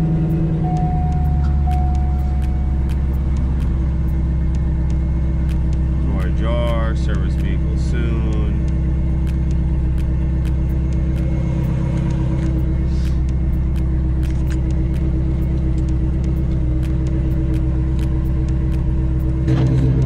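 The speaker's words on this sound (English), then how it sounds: "Let's start this car." A Chevrolet C5 Corvette engine cold-starting, with a steady loud rumble and a brief cranking flutter partway through, continuing at idle.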